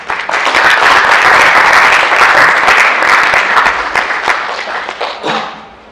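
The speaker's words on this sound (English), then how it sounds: "So please give her a round of applause." A film festival audience in Los Angeles gives a loud, full round of applause. Many hands clap steadily and close, then the clapping thins out and fades away near the end.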